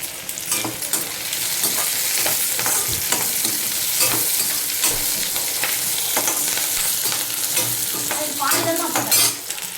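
Onions and broken dried red chillies fry in a pan for a mutton dish, giving a steady, close sizzle throughout with frequent scraping stir strokes and small crackles, no voices.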